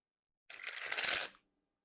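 Thick Bicycle Sudoku Volume 1 playing cards are sprung from one hand to the other in a single quick riffling burst, a dense papery flutter lasting under a second, close and alone.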